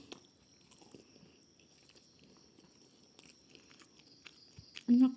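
Someone bites and chews a pumpkin fritter (bakwan labu) up close in a quiet room, with soft irregular crunches and mouth sounds and a louder bite near the end.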